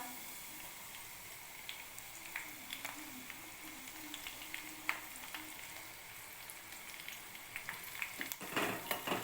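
Curry leaves hit hot tempering oil for a dhokla, giving a steady, fairly soft frying sizzle with scattered crackles and pops that grow busier and louder toward the end.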